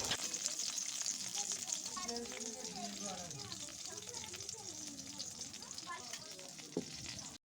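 Hilsa fish sizzles and spits loudly in hot oil in a kadai, with a spatula scraping and turning the pieces; a voice talks over the steady frying.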